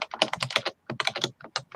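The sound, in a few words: someone typing on a computer keyboard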